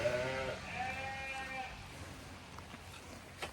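Pet lambs bleat on a farm, a couple of wavering calls near at the start, then quieter livestock background with faint rustling.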